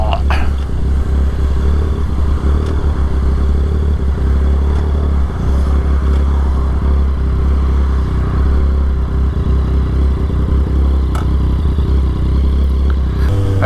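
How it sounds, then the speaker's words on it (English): A Yamaha XSR 900 motorcycle is ridden at a steady pace, its engine a continuous low drone with wind rush throughout and no obvious revving. "Motorcycle."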